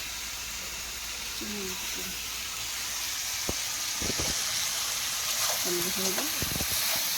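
Chicken frying in a pan, a steady broadband sizzle running throughout with a few sharp clicks of utensils and brief murmured voices in the background.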